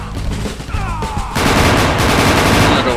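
Enemy MP5 submachine gun and M1014 shotgun fire in Soldier of Fortune Payback, scattered shots that burst into dense, loud rapid gunfire after about a second and keep going to the end, with no talking.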